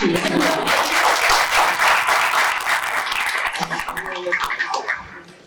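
An audience at a fireside chat on entrepreneurship claps loudly and steadily, a dense close wash of hands that thins slightly toward the end, with faint voices mixed in.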